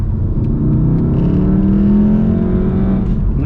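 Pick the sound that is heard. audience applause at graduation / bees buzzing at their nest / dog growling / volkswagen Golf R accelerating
volkswagen Golf R accelerating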